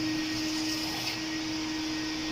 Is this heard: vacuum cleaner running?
yes